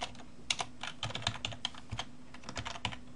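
Clumsy, fast typing of code on a computer keyboard, a close run of crisp key clicks in uneven bursts with a few louder strikes, no voices.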